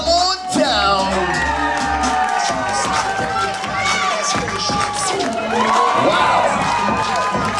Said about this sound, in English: Make some noise, scream and shout